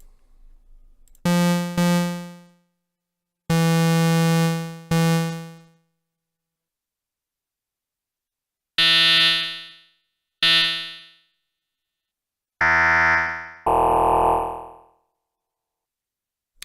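Arturia MicroFreak synth sounds Quantum Fold warp wavetables in separate sustained notes, harsh buzzy tones that fade after each hit, some bright and nasal, with pauses between.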